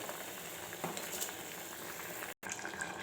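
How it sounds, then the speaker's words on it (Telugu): Rice poured into a pot of boiling water while cooking biryani, with a steady close bubbling and rushing wash of sound, a few soft splashes and a brief dropout near the end. "ఇప్పుడు ఈ మరుగుతున్న వాటర్లో ఈ బియ్యం అయితే వేసుకోవాలి."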